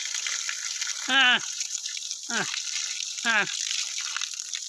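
A newly struck well gushes water in a strong, steady rush, with short voiced exclamations rising above it three times.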